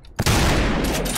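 A high-recoil gun in the video game Trepang2 fires a burst: a loud, sustained rattle of rapid shots that starts abruptly after a brief quiet moment and keeps going to the end.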